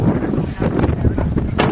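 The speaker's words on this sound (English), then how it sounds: "Gosh, it is windy" Strong gusting wind buffets the microphone in a steady low roar, with rustling bursts rising and falling throughout.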